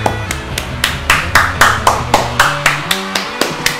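A person claps their hands about a dozen times in a steady, quick rhythm, sharp and close, over faint game sounds.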